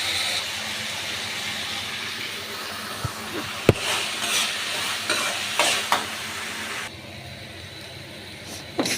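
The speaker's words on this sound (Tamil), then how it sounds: "இந்த நீர் வந்து வத்துற வரைக்கும் கொஞ்சம் வதக்கிடணும்." Turkey berries (sundakkai) sautéing in oil with occasional stirring, a steady soft sizzle with a few sharp spoon clinks against the pan, quieter toward the end.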